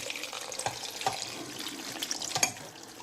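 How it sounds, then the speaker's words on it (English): Tap water runs into a slow cooker pot, a steady close splashing hiss with small fluctuations and no voices, lasting about three seconds. "What we're going to do now is fill it up with water."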